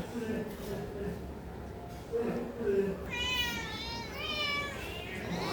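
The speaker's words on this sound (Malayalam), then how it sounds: "ഇതാണ് എൻ്റെ മുകളിലിരിക്കുന്ന ക്യാറ്റ്സുകൾ" Several cats meow in a row, rising and falling cries close by, with a voice talking quietly underneath at the start.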